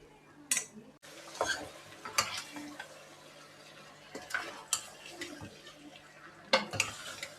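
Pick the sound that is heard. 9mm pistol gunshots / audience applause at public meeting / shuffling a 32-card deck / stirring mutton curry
stirring mutton curry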